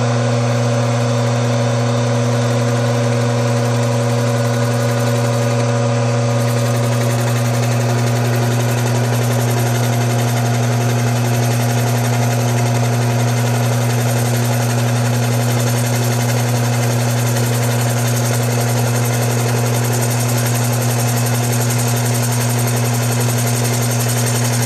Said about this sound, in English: Doing a little milling. Let's see if it goes.